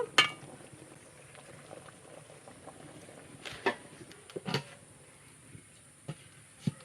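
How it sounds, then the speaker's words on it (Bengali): Eggs simmer in a pot of water during village-style cooking, giving soft, scattered bubbling with a few sharper pops and clicks at irregular intervals, heard up close and fairly quiet, without talk. "এবার ডিম সিদ্ধটা আমার পুরোপুরি হয়ে গেছে এবার আমি নামিয়ে ফেলবো"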